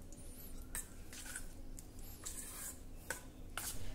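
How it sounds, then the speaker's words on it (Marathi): A spoon stirs curd poha mixed with a hot tempering in a bowl, giving soft, quiet scraping and clinking with light squishy sounds in a few brief bursts. "मिक्स करूया"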